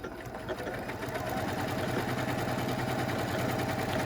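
A Janome M7 sewing machine stitches at a 2 stitch length with a steady, fast mechanical whir and rhythmic needle clatter. The sound is close and continuous and builds slightly as it runs.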